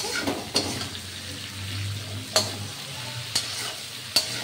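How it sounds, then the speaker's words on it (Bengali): Samosa filling with turmeric and salt fries in a pan with a soft, continuous sizzle, broken by four sharp scrapes as a spoon stirs it, and no voices are heard. "এখন সামান্য হলুদ দিয়ে আর লবণ দিয়ে এইটা ভাজা হবে"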